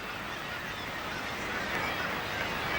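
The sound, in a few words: seabird colony calling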